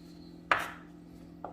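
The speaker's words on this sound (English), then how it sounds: "I'm chopping and cutting how I feel comfortable with" A knife chops vegetables for pico de gallo on a cutting board with two crisp separate strikes, the first loud and close and the second softer, against a quiet kitchen hum.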